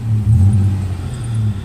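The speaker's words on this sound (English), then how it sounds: "I think you can kind of hear the engine here and there." A Toyota 4Runner engine fitted with a Thrush muffler idles after warm-up, a steady low rumble with a deep throb that swells briefly, close and fairly loud throughout.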